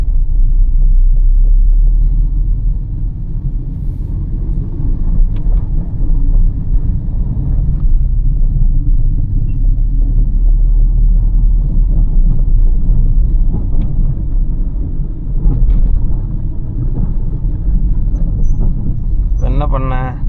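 A car driving through slow city traffic while the driver changes up through second and third gear, heard from inside as a loud, steady low engine rumble with wind buffeting, under continuous talk.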